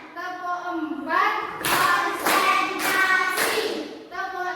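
A classroom of children claps four sharp, evenly spaced claps in rhythm, loud and close, with a chanted voice just before and after.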